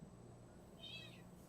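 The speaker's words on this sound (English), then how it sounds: "I'm hearing a kitty." Far in the background a house cat gives one short, faint meow over a low steady hum.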